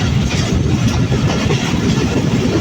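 The Tungipara Express runs nonstop from Ishwardi Junction toward Rajshahi, heard from on board as a loud, steady rumble with faint rhythmic rattling of the carriage throughout.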